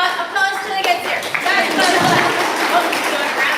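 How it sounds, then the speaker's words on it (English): Audience applause at an open mic poetry night, a steady wash of clapping that swells after the first second and stays fairly loud to the end, with some crowd voices mixed in. "Applause till he gets here."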